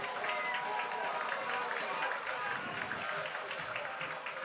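A soccer crowd at a Syracuse FC versus Rochester Lancers match applauds and cheers after a goal, a steady wash of clapping and crowd noise from a distance at modest level.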